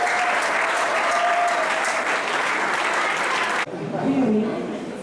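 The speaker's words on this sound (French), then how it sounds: "Applaudissez s'il vous plaît, mesdames et messieurs." Loud, sustained applause from an audience fills most of the moment, then cuts off abruptly and gives way to quieter room sound with a voice.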